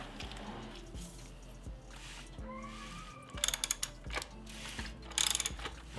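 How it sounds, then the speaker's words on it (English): A BMW N54 engine in an E90 is turned over by hand toward top dead center, giving close ratcheting clicks and clunking mechanical knocks in a quiet garage. "So I'm just gonna spin the motor"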